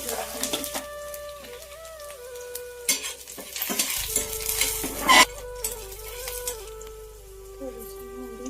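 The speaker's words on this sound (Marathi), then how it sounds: "पहिला लसूण बसलेलं तेल नाही जास्त गरम." Garlic frying in not-too-hot oil in an iron pan for okra curry gives a steady soft sizzle with occasional stirring clinks, while someone talks over it in Marathi.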